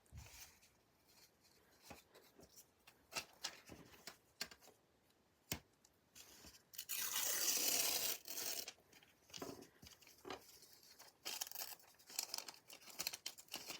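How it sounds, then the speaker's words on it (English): Tissue paper torn and crumpled by hand during a craft collage session, quiet crinkling and scattered ripping sounds with one longer, louder burst of rustling in the middle. "This is tissue paper."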